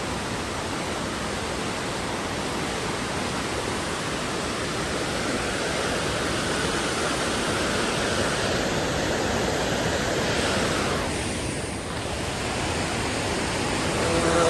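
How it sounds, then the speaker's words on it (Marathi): Water released from the Chas Kaman dam during the monsoon rushes in a loud, unbroken roar of broadband noise that holds steady, close and dominant, for the whole stretch. "हे पावसाचं का धरणाचं पाणी येतं"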